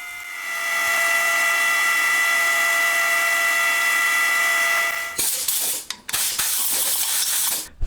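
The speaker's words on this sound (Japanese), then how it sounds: "次はロングドリルに付け替えて、また限界まで掘っていきます" A high-pitched drill whines steadily for several seconds while boring a deep hole for a handmade engine's main shaft, then shifts to rougher, noisier grinding with brief interruptions as it bores deeper.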